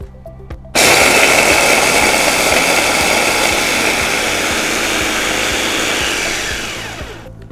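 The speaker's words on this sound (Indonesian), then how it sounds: "Kita sudah chopper nih sampai halus." An electric food chopper grinding cheesecake ingredients for a crème brûlée cheesecake switches on abruptly and runs loud and steady for about six seconds, its motor whirring continuously before it winds down and stops.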